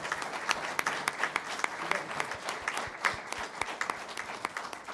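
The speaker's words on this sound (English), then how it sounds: "Big round of applause." Applause breaks out at a school board meeting honoring a student award, a dense burst of many hands clapping with sharp individual claps standing out, sustained for several seconds.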